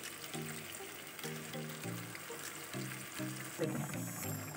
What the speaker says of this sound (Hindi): इसमें हम थोड़ा सा पानी ऐड कर देते हैं।